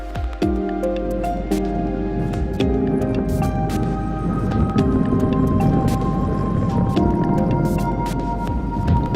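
In a dragon visual novel, a muffled underwater splash and heavy thud land among a dense ambient score, with a low rumble, sharp clicks and sustained tonal notes running throughout without talk.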